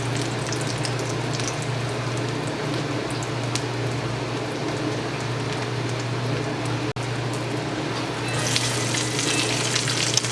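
A keto jalapeno popper fries in a pan with a steady, close, continuous sizzle that grows slightly brighter and crackly toward the end, with no voices.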